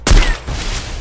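Gunfire in a mobile shooter game played on an iPhone 8 Plus during a competitive match: one loud close shot with a sharp attack, then a steady rumble of further game action, with no talk over it.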